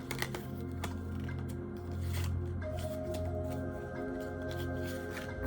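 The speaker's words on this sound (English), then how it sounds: "It's not that I don't shuffle my cards like a normal person, but like, I just don't like bending my cards." A deck of tarot cards shuffled gently without bending, heard as soft, close, continuous shuffling and sliding at a quiet level, over a faint background hum and with no talking.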